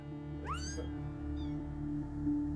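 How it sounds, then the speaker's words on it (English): A tiny kitten gives one clear rising meow, then a fainter shorter mew follows, close and alone over a quiet background hum. "All that's left to do now is for the tiny kittens to be checked out by vet Vicky Walton."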